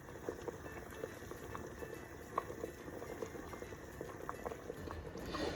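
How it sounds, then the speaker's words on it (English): A pot of salted water with potatoes bubbles at a steady rolling boil on the stove, a soft continuous burble with faint pops, quiet and close. "our potatoes have been boiling now for a little bit"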